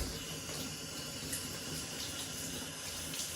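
Water pours steadily from a bathtub faucet fitted with a hose sprayer, a continuous close hiss and splash with no talking.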